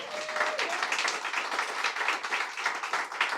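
A workshop audience at a home hardening emergency preparedness event applauds Firewise representatives, steady moderate clapping from a room of people with a brief tone at the start.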